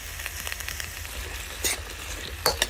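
Vegetables and pineapple frying in hot oil in a pan, a steady sizzle with occasional stirring scrapes and a couple of louder crackling bursts near the end.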